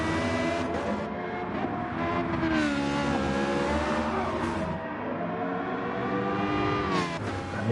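GT1 race cars in a racing video game, engines droning and revving through gear changes with rising and falling pitch, loud and continuous, with another car close alongside.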